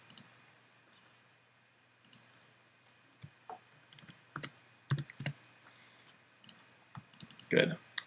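Quiet, sporadic computer mouse clicks, some in quick double-click pairs, scattered over a low hum during desk work on a calendar app.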